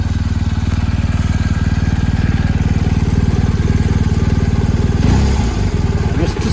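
A BMW R 1250 GS motorcycle with a 1254cc BS6 engine runs at a steady idle, a close, even, throbbing rumble that stays constant throughout, with a brief clatter near the end.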